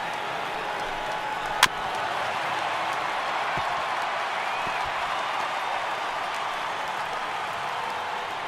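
A stadium crowd of over 27,000 cheers in MLB The Show 18 during a Phillies versus Athletics game, a sustained, even roar of many voices with one sharp crack near the start.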